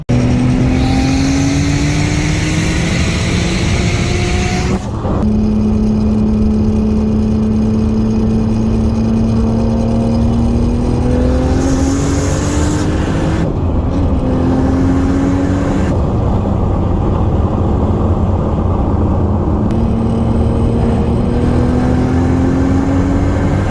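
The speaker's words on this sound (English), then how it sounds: "I'm going to drive the car back home." A car with a built 2JZ engine pulls hard, its loud engine note climbing through the revs, then breaking off between gear changes, and rising again several times, heard from inside the car with no talking.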